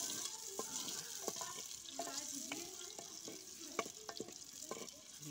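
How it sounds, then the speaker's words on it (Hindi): Sliced onions sizzling in hot mustard oil in a pan while being stirred, a soft steady crackle with scattered spatter pops and scraping clicks, quiet and close. "ये हमने प्याज डाल दिए, तेल गरम हो गया था"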